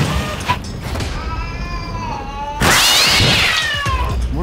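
A cat stuck in a tree meows and caterwauls loudly and close by, with drawn-out wavering cries that grow harsher and more strained in the second half, over some background noise.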